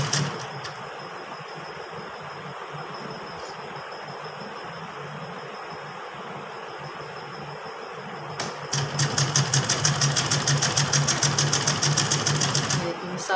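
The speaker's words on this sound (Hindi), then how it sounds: "और इस पर मैं सिंपल जो है सिलाई लगा दूँ।" Sewing machine stitching trouser fabric: a faint low hum at first, then from about 8.5 seconds a loud, fast, even rattle of the needle running steadily to the end.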